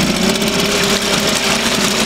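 A Suzuki DT 2.2 outboard boat motor idles steadily in a test barrel, its close, loud, even mechanical drone holding constant without pauses or changes in pitch.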